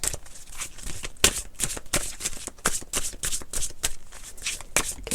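Oracle cards being shuffled by hand make rapid, papery riffling bursts with repeated sharp flicks, close and continuous.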